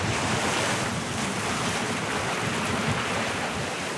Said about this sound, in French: Mais avec le vent qu'il y a, c'est pas la peine.